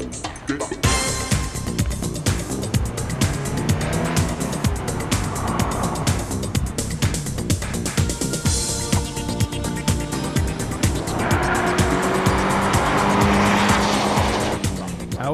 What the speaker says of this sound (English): A personalised lesson in car control from ride and handling expert and Elise racer Gavin Kershaw in the 111S.